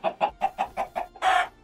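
A Minecraft chicken clucks in a quick series of about seven short clucks, then a longer squawk, close and clear with nothing else around.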